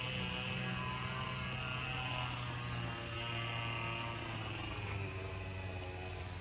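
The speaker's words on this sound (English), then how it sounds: "We got two Goodman units and a little Carrier 38 CKC." Two Goodman units and a small Carrier 38 CKC heat pump running outdoors give a steady, even hum and fan whoosh, close up and unchanging throughout, with no talk.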